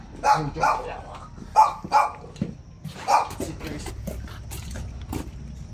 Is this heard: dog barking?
yes